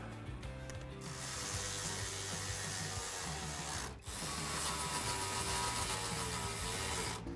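Ratchet wrench tightening bumper brace bolts during a front mount intercooler install on a 2017-2020 Ford F150 Raptor, a steady close rasping ratchet that runs continuously with one brief pause midway, no talk.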